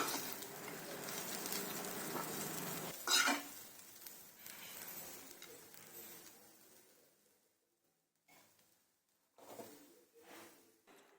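Grated coconut mixed with salt is stirred in a hot pan, giving a steady scraping sizzle for about three seconds, then quieter intermittent stirring and soft clinks with pauses, no talking.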